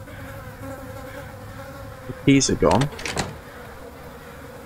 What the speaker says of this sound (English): Why is this place buzzing with flies?